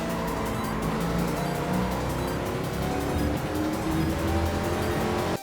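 Chaparral 2J race car engine in Gran Turismo 7 at Watkins Glen, held loud and steady throughout as it powers out of a corner, with a dense roar and a faint hint of tire noise.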